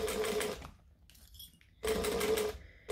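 A sewing machine stitches bulky Yasmina backpack fabric in two slow, steady bursts with a short quiet gap between them, then starts a third run. Close and fairly loud, with no talking.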